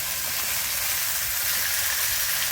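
Chicken pieces lightly browning in a hot pan give a steady, close sizzle and hiss that stays even throughout, with no talking.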